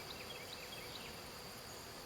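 Honeybees buzzing inside an opened nuc hive with a broken frame, a soft steady hum of many bees close by, with faint higher whines drifting through.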